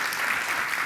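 Brief burst of audience applause at a Bloomberg Philanthropies talk by chef José Andrés, a steady wash of clapping throughout, fairly loud and even, with no voices over it.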